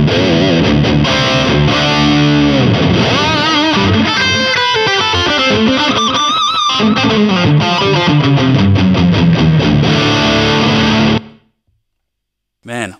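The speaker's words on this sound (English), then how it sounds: "Here's the echo system." An MI Amplification Iron Duke guitar amp plays through its echo effect on a medium-drive overdrive channel, giving loud distorted electric guitar phrases whose repeats smear and trail before cutting to near silence, with a brief burst at the end.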